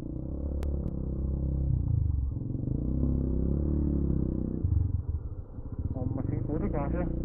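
Suzuki Burgman Street EX scooter on a ride around Catanduanes, its engine droning and clattering steadily underneath people talking nearby.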